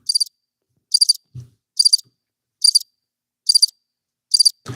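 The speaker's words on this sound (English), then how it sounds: "I hear crickets." Crickets chirp in six evenly spaced bursts about a second apart, bright and clear against silence, with a faint low thump between two of the bursts.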